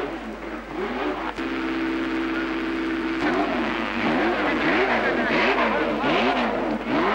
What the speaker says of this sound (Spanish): Es un Porsche 908 que está corriendo en este momento en el sector del cajón, el mixto del circuito número 15 del Autódromo Municipal.